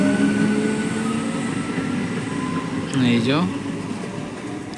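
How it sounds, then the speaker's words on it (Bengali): A passenger train moving through Gangpur station near Bardhaman, a steady loud rumble of cars and wheels with a brief rising squeal partway through, while someone talks over it. "চলে গেল ট্রেন।"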